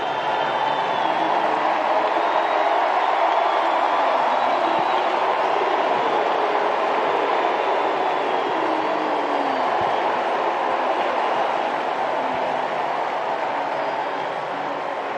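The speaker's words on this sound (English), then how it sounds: "Let's hear this crowd support for Lead 2." A big US Open tennis crowd roars in sustained, dense support as Carlos Alcaraz goes through in four sets; the swell stays loud and steady throughout, like a continuous ovation filling the stadium.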